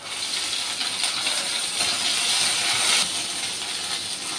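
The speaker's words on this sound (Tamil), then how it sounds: "கடையில் கொஞ்சம் எண்ணெய் விட்டு இந்த காஞ்ச மிளகாய் கொஞ்சம் நல்லா வறுத்துருங்க." Dried red chillies fry in oil in a pan while making mint chutney, giving a steady, bright sizzling hiss with small crackles throughout, close and fairly loud, with no talking.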